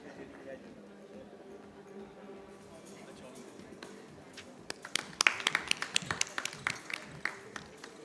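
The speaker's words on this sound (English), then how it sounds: "let's have a huge round of applause for our chair." Applause from a conference audience for the session chair at an electric vehicle event, starting sparse and quiet, then swelling midway into a fuller round of claps that stays fairly distant.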